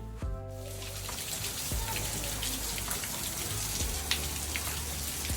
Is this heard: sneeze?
no